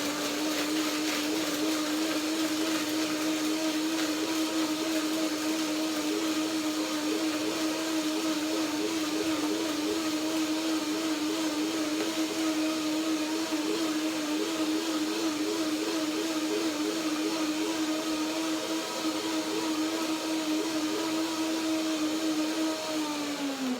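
Blender whirring through ginger, flax seeds, macadamias, bananas, dates and water, a steady loud motor whine that runs continuously for over twenty seconds and dips at the end.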